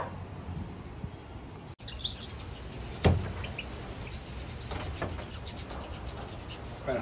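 Wild goldfinches chirp in scattered short calls outdoors, fairly faint over steady background noise, with one sharp knock partway through and no talking.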